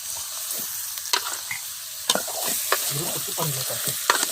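Village chicken curry sizzles and fries in a pan while a ladle stirs and scrapes through it, with steady crackling broken by repeated clanking scrapes, close and moderately loud.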